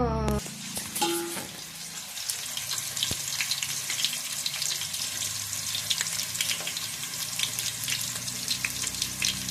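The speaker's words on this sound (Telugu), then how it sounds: "తర్వాత ఏం చేస్తాం ఆలు ఫ్రై చేస్తారు అనమాట" Potatoes frying in a pan to a golden colour: a loud, continuous hissing sizzle fills the whole stretch, with occasional small pops and stirring scrapes close by.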